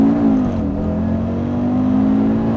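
A car accelerating hard at speed, a steady droning engine note rising slightly in pitch and holding loud and close throughout, with no voices over it.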